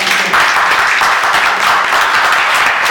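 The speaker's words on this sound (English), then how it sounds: "You deserve a round of applause" An audience at a film premiere at the Aloft Harlem Hotel applauds, a dense, steady wash of many hands clapping close by that fills the whole stretch without a break.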